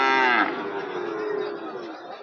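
Cattle lowing at a livestock market selling bulls for farming, one loud close moo opening then trailing off into a long drawn bellow with faint crowd murmur behind.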